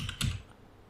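Two quick keystrokes on a computer keyboard, close and fairly quiet, pressed together as a shortcut, followed by near silence.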